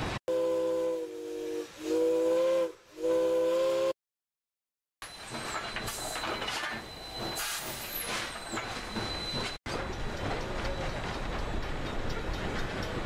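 A steam locomotive whistle in a trucking video game sounds in long sustained tonal blasts, followed by a dense hiss of steam and rolling rail noise that carries through to the end.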